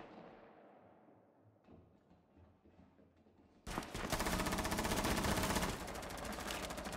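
Rainbow Six Siege gunfire: quiet game ambience gives way to a sudden, loud, sustained burst of rapid automatic shots that continues, slightly softer, to the end.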